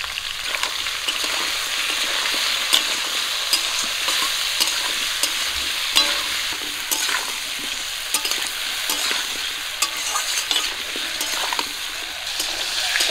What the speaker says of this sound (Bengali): কচু আর আলুগুলো লবণ হলুদ দিয়ে একটু ভাজা করে নেব